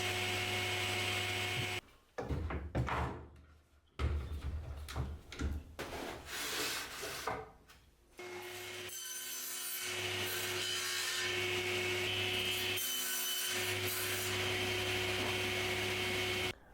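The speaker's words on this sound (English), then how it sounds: "I'm going to set up the crosscut sled with a stop block and get these bits cut" A table saw with a crosscut sled and stop block cuts pallet wood. Its motor hum runs throughout, broken by several rough, loud passes through the boards, with a short lull between cuts.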